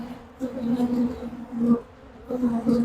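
A loud, steady buzz of many honey bees close by during a hive check and honey harvest, swelling and fading in waves with no voices.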